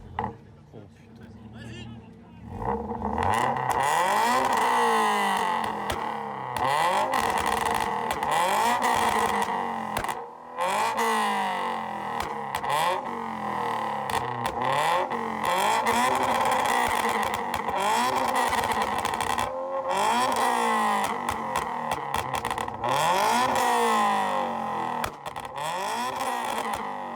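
A modified car at the Wonderland car show revs hard again and again, its engine note sweeping up and down in loud, close bursts, while people chat in French throughout.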